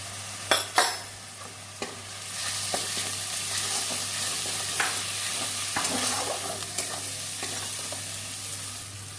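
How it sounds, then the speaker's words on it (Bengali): Ground spices, namely cumin, coriander, chili powder and turmeric, fry in a pan with a steady sizzle. A few sharp utensil knocks come at the start, then intermittent scraping strokes of stirring. No speech is heard. "মশলাটা ভাজা হয়ে গেছে"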